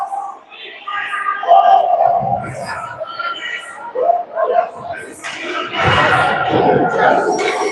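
A crowd at a live-streamed high school hockey game reacts unhappily to a referee's call, with scattered shouts and jeers that swell toward the end, mixed with nearby voices.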